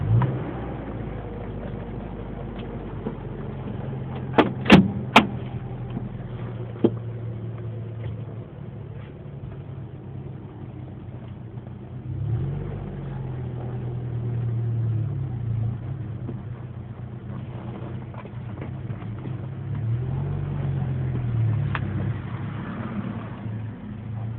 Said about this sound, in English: 94 Mazda B2300, making weird sound when it shifts into neutral.